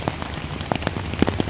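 Scattered raindrops patter on a tent at a lakeside provincial park campsite, with irregular close taps and small splats at moderate volume and no voices.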